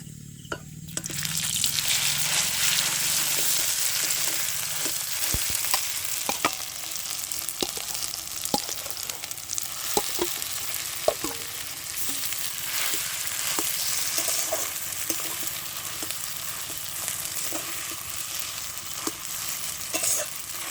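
Potatoes go into a pan of oil with fried chopped ginger for a village potato chop, sizzling steadily at close range while a spatula stirs and scrapes, its sharp clicks repeating irregularly throughout.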